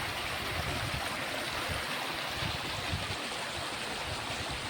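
Floodwater rushing steadily past a washed-out culvert on a rural road, a continuous broadband roar of flowing water with low churning surges, heard up close with no voices.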